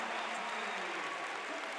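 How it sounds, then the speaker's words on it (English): Basketball crowd at Crisler Center roaring after a slam dunk in a Michigan Wolverines vs Buffalo Bulls game, a steady dense wash of cheering and applause filling the arena with no break across the moment. "Musa getting the crowd pumped up here in Crisler Center"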